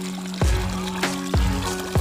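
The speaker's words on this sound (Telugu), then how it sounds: "ప్రశాంత్ వల్ల బోర్లోని వాటర్ చూడండి." Water from a borewell pouring beside a newly planted paddy field, a steady running gush broken by several deeper splashing surges, close and loud with no talking.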